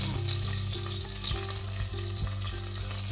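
Whole cloves and cinnamon pieces sizzle in hot oil in a pan, a steady close frying hiss with a few light knocks from stirring, and no talk.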